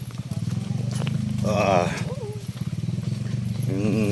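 Several motorbikes rev and drone up close near a cave swimming pool, their engine rumble running steadily under a man's excited, continuous talking.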